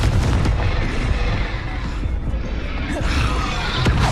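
Blasting-spell explosions in Hogwarts Legacy boom in heavy, loud bursts over continuous combat rumble, with sharp cracks near the start, middle and end.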